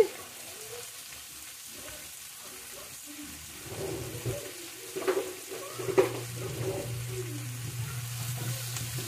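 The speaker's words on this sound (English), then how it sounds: "And you're going to cook this for about 2 to 3 minutes, or until the apples are softened." Apples softening in a pot for sweet potato soup, giving a low, steady sizzle with a few louder stirring scrapes and clinks near the middle, fairly quiet and close.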